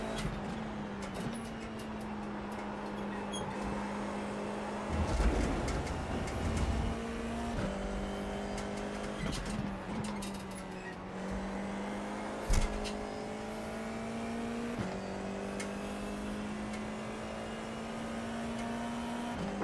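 Formula 4 race car driving at the Sachsenring circuit in Germany, a steady onboard engine drone that shifts pitch up and down through gear changes, loud and continuous with no talk.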